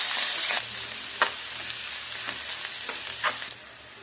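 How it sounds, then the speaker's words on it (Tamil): Onions and green chillies fry in oil in a pan with chana dal, giving a steady close sizzle broken by several sharp stirring scrapes, with no talking. "கடலைப்பருப்பு பிறகு வெங்காயம் பச்சை மிளகாய் போட்டு எல்லாத்தையும் வதக்கணும்."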